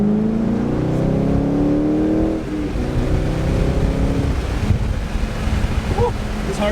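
C5 Corvette fitted with a Billy Boat Bullet axle-back exhaust, its loud engine note falling away after a rev, then a rough rumbling burble with scattered pops, all under heavy wind buffeting.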